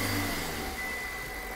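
A 2014 Hyundai Xcent top-model S6 petrol car with push-button start, its engine running in a steady mid-pitched drone close by, faint and alone at a used car bazaar in Delhi.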